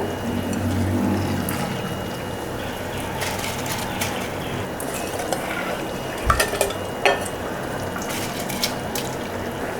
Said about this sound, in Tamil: அடுத்து வந்து நம்ம ஊற வச்சா அரிசி போட்டுடலாங்க.